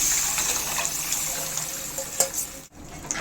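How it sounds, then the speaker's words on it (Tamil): Prepared fish curry mixture is poured into a pan of sautéed onions, giving a close, gushing, hissing pour with sizzling that runs steadily before tapering off at the end. "இப்போ நம்ம ரெடி பண்ணி வச்சுக்கோ குழம்பு சேர்த்துக்குவோம்"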